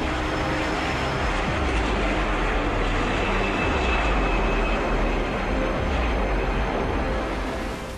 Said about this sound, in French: le vol Air France 447 décolle à 22h29, avec 30 minutes de retard